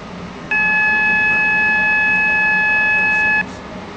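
Beeping from a train standing at a station in the Stepford County Railway game: a steady electronic tone, loud and unbroken for about three seconds, starting and stopping abruptly, with no talk over it.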